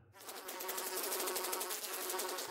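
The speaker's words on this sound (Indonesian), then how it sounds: "Tuhan akan mengirimkan kawanan lalat udara akan berubah menjadi hitam karena banyaknya lalat yang ada." A swarm of flies buzzes in a dense, continuous drone that starts abruptly and holds steady, many wings whirring together, fairly quiet, with no voices.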